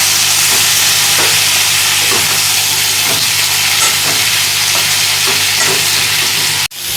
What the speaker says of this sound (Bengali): উচ্ছেগুলো হালকা করে একটু ভেজে নেব